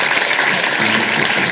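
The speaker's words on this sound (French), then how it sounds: "Sous vos applaudissements, bien évidemment" A brief, loud burst of audience applause in a theatre during a management conference, with close, dense clapping that runs unbroken throughout.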